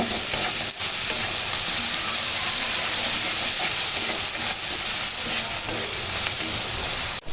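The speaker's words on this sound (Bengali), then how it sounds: "ভালো করে ভেজে নেব।" Salted food, with fish about to go in, sizzles and fries in a pan: a steady, loud, close hiss for about seven seconds with faint stirring and no talking.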